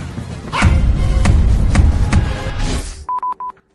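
A dog barks loudly and close in a comedy sketch, about five sharp barks in a row, followed by a few short electronic beeps.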